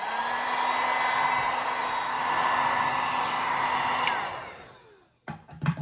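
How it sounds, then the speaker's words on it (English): A heat gun blows steadily to heat and soften a Kydex sheet, making a loud, even whooshing roar with a faint whine. After about four seconds it cuts off and a few quiet handling knocks follow. "we're gonna heat it up with my heat gun here"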